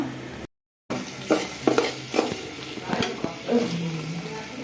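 Chopped potatoes tipped into a pan of pigeon curry, followed by sizzling and stirring with scraping and clinks of a spoon against the pan, close by with brief voice sounds.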